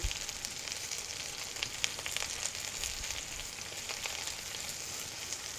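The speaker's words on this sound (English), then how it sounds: "So we got a nice orange ginger reduction. And we're just going to let it simmer." An orange and ginger reduction simmers in a pan, a steady soft sizzle and crackle with tiny popping bubbles, even and continuous at low volume.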